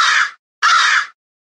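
A crow gives two loud, harsh caws in quick succession, each about half a second long with a short gap between, close and clear with no other sound.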